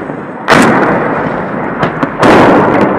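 Artillery shelling in the war in Ukraine, loud heavy blasts with a sharp burst near the start and another later, each followed by a long rumbling roar, with no talk.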